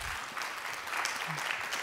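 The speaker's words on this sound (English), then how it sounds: "Let's give them a warm applause." A crowd applauds with steady, dense clapping throughout, a faint voice briefly audible underneath.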